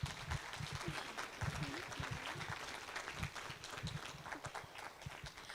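Applause at a city council meeting after a staff recognition, a room of hands clapping steadily and moderately close, with some murmured voices underneath.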